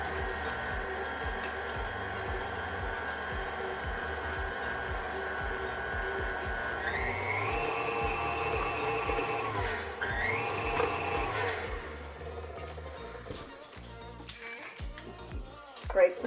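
Electric mixer whirring through banana cake batter with buttermilk, a steady motorized hum that rises in pitch as speed changes, then slows and stops near the end with some clatter, a voice talking over it.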